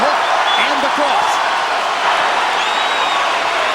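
Arena crowd at a heavyweight boxing title fight between Wladimir Klitschko and Tony Thompson, a broad steady roar of cheering and applause filling the whole stretch, with commentary voices faintly over it.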